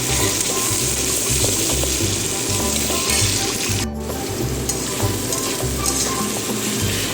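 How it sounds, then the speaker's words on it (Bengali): Chopped onion frying in oil over bay leaves in a pan for a Bengali potato curry, a steady dense sizzle running throughout with occasional stirring scrapes and one brief dip near the middle. "পেঁয়াজটিকে ভালো করে লাল করে বেশ কিছুক্ষণ ধরে ভেজে নিতে হবে।"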